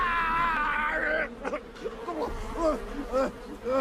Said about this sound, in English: Oh, no, not the bees! Not the bees!